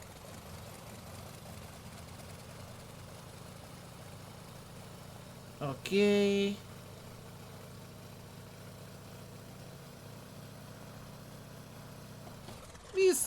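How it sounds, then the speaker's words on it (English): Steady low idle drone of a Sukhoi SU-31 aerobatic plane's engine in Microsoft Flight Simulator 2020, with a brief louder tonal swell midway and another near the end; a voice speaks briefly. "Conduct engine run-up checks. Hold power."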